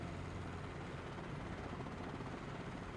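An R22 turbine helicopter in Microsoft Flight Simulator 2020 flies with a steady, dense rotor and engine drone that holds constant with no break and no talk.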